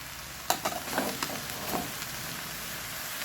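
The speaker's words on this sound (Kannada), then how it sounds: "ಹಾಗಲಕಾಯಿ ಪೀಸ್ಗಳು ಬೇಯ್ತಾ ಇದೆ ನೋಡಿ" Bitter gourd pieces cook in a pan with a faint, steady sizzle, broken early on by a few soft clinks and scrapes, with no talking.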